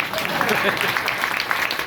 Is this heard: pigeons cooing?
no